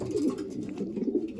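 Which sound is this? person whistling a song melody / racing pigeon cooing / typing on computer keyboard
racing pigeon cooing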